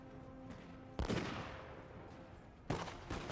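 Matchlock caliver muskets fire in volleys during a Thirty Years' War battle game: two loud, crackling blasts about two seconds apart, each fading into a rolling rumble over a steady battlefield din.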